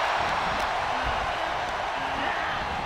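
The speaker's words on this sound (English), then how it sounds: "Listen to this crowd count the next one in." A video game wrestling crowd at a women's royal rumble cheers as a steady, muffled roar at moderate distance, with no distinct voices standing out.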